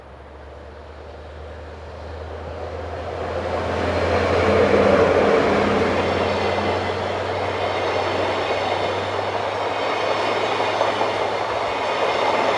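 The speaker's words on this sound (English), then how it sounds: "At the other end of the station, 2016-081 departs on its journey towards Graz." ÖBB class 2016 locomotive pulling a train out of a station toward Graz, with a steady low engine drone and rolling wheel noise that swells to a peak midway and then holds, heard from nearby.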